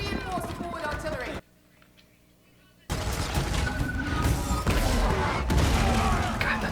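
Heavy railgun-like artillery fire from an animated battle in Arcane, loud rapid blasts and booms that cut out for a brief near-silent pause before resuming just as intensely.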